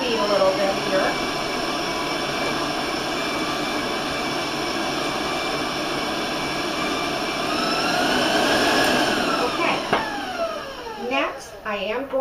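An electric mixer runs steadily at a raised speed, beating raisin oatmeal cookie dough, a continuous motor whine with a brief pitch change near the end and a few short clatters.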